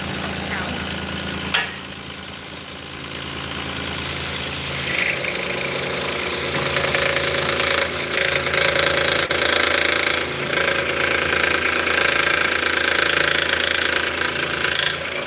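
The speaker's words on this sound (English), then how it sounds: "So the scroll saw has a reciprocating blade, so the blade's going up and down." A scroll saw with a reciprocating blade cuts wood for drop spindles, making a continuous, close mechanical buzz and rattle that holds steady throughout.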